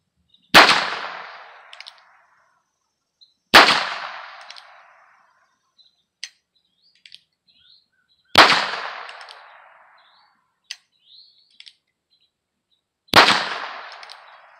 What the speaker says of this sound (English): Let's take a couple of shots. This is a single action revolver.